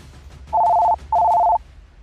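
Two loud, even electronic telephone ring bursts, each about half a second with a short gap between, a clean double-tone ring over a quiet low background hum.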